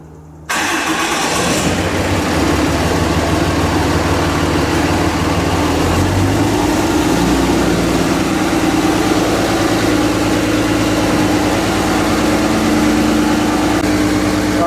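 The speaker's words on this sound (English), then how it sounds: "I'm gonna crank my truck up over here and let the batteries build up" A pickup truck engine cranks briefly and catches within the first second, then settles into a loud, steady diesel-like idle with a low rumble that shifts slightly partway through and runs on alone.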